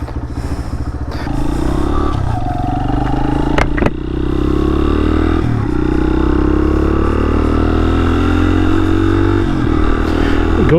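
Honda XR100 motorcycle engine idling close by after a kick start, a steady loud single-cylinder thump with some mechanical clatter and slight pitch shifts throughout.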